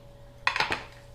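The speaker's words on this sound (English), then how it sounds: "Put the pan over there, and I will then put that back onto that side" A pan set down on a kitchen counter makes a single clear metallic clunk with a short ringing clatter, close and brief in a quiet room.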